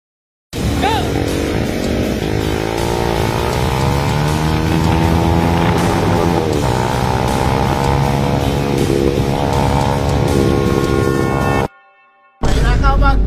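A Raider 150 motorcycle drag races a 400cc big bike, its engine screaming loud and close as it climbs through several gear changes in a steady rising whine, then cuts briefly before roaring again.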